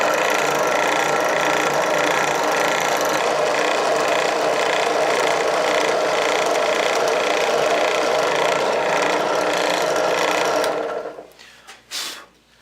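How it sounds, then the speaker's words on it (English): A drill press bores holes in a wooden organizer with spade bits, a loud steady grinding whir that runs for about ten seconds, then spins down and stops with a short final burst. "This is a nice drill press, but it could be better."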